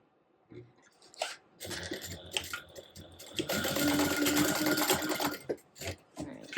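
Sewing machine basting two fabric layers together, running in short bursts and then one longer stretch of fast stitching, close and fairly quiet.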